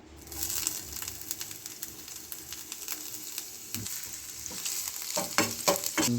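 Chopped ginger sizzling and being stirred in hot oil in a pan, a continuous close frying hiss with crackles and occasional scraping clicks from a utensil, growing busier toward the end.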